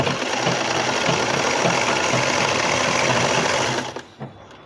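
A sewing machine runs steadily, stitching around the hem of a newborn baby's jhabla dress. The whirring drone is close and loud, with a faint pulsing rhythm, and it winds down at the end.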